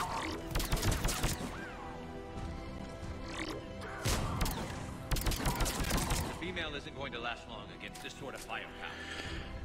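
Gunfire in the Mass Effect 3 video game crackles in dense bursts alongside thuds and impacts during a chaotic firefight, with voices talking throughout.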